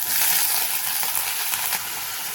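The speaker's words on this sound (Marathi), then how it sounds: "कांदा टाकल्यावर बघा गवार टाकते." Cluster beans hit hot oil with onion in a pan, giving a loud, bright hiss of frying that stays steady and close for a couple of seconds with a few faint clinks, no voices.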